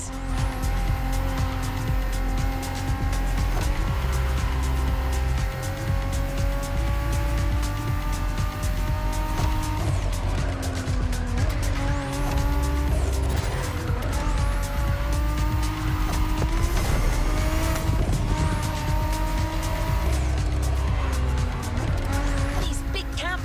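Cars drifting on a drift track in The Crew Motorfest, loud continuous engine roar with rising and falling revs and repeated tire squeals, dense and close for the whole stretch, with a voice talking over it.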